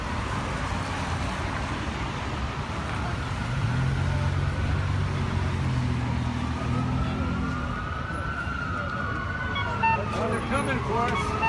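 An ambulance siren wails through city traffic near a street protest, a rising and falling tone growing louder mid-clip over steady crowd and road noise, with people talking throughout.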